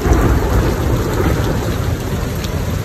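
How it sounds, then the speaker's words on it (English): Steady heavy rain pours down outdoors on a grape-juicing day during a thunderstorm, a loud dense hiss of drops hitting surfaces that fills the whole stretch with no voices. "It's raining on grape day."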